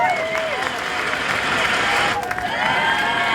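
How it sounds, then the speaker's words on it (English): A crowd at a sprint car race at Ventura Raceway applauds and cheers the race winner, steady clapping with shouts and whistles rising throughout, loud and continuous. "Big round of applause, everybody"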